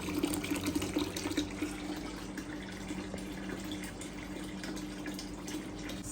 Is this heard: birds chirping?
no